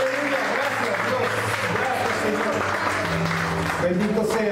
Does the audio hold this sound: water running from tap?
no